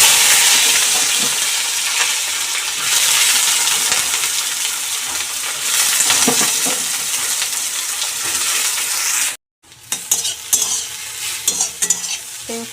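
Bitter gourd slices fry in hot oil with a loud, dense sizzle and crackle. Stirring clatters against the pan. The sound cuts out abruptly for a moment, then returns as sparser spattering and scraping.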